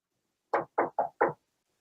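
Four quick, sharp knocks on a door, close and fairly loud, the first three evenly spaced and the last after a slightly longer gap, surrounded by silence.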